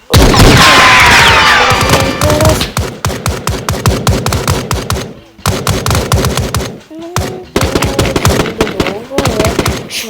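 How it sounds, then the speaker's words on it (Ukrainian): Rapid bursts of gunfire in a Minecraft war game crack again and again at close range, dense volleys with short pauses between them, loud and sharp throughout. "Я чую постріл."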